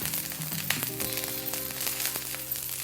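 Cauliflower sizzles gently as it fries lightly in a pan. The close, even hiss carries scattered pops and runs for a few seconds with nobody speaking.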